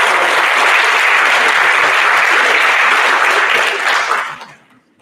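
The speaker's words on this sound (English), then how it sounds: "Please give yourselves a round of applause." A school-event audience at a Board of Education public session breaks into loud, dense applause that holds steady for about four seconds before tapering off and fading out.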